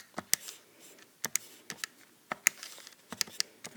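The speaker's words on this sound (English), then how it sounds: "I'm typing everything in." Fingers tap on a calculator keypad, giving sharp, quiet plastic clicks in an irregular run of about a dozen presses, close and alone with no talk over them.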